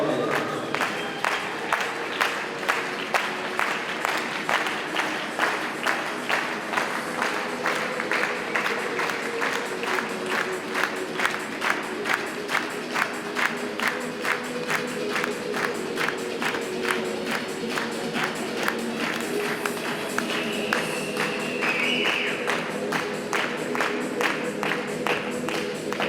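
Sustained audience applause at an Icelandic horse show, a dense steady patter of many hands clapping with some crowd noise, continuing without a break throughout.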